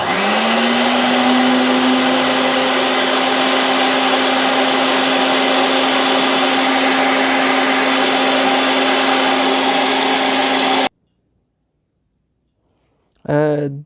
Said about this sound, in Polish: tutaj używam tego malutkiego blendera, on się super do tego spisuje